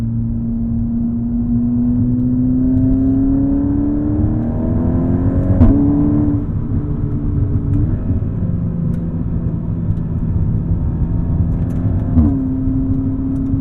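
A Volkswagen Golf R Mk7.5 hot hatch accelerates on a race track, and its engine drones loudly and steadily from inside the car. The pitch climbs under load and drops at a few quick gear shifts.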